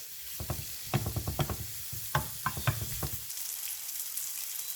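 Mushrooms sautéing in a hot pan, a continuous close sizzle broken by rapid bursts of scraping and stirring strokes for about three seconds, then settling into steady frying hiss.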